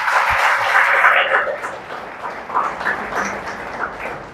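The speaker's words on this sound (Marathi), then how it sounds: "या माऊलीसाठी एकदा जोरदार टाळ्या होऊन" Applause for a mother sitting in the audience at a podcast recording: a strong burst of clapping that thins after a second or two into scattered, fading claps.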